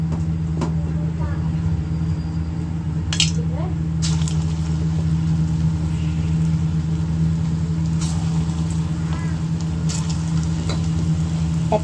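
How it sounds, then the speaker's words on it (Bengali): Hot oil in a pan, ready for soybean and potato pakora fritters, gives a steady close sizzle and bubbling with a low constant hum beneath, and a few sharp clicks and taps break in along the way. "আমার তেলটা গরম হয়ে গেছে। এবার আমি বড়াগুলো ছাড়ব।"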